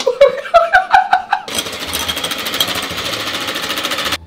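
An electric hand mixer whirs loudly and steadily for several seconds with a buzzing, motor-driven drone, after a few brief rhythmic tonal bursts at the start.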